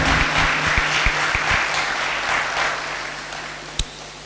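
A congregation at a church thanksgiving Mass breaks into sustained applause welcoming new priests, a dense steady wash of clapping filling the hall that gradually eases off, with a single sharp knock near the end.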